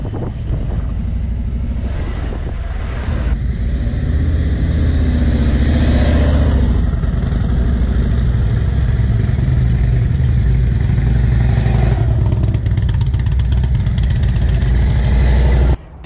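Harley-Davidson motorcycles idle and roll through a 3,000-year-old redwood drive-through tree in California, their loud, steady engine rumble close by for the whole stretch, with a bit of throttle toward the end and no speech over it.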